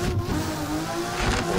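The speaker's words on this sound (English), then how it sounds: "Sorry for the limiter being loud." A racing car engine in a sim drifting game holds against the rev limiter, a loud, continuous buzzing drone that stutters slightly as it bounces off the cutoff.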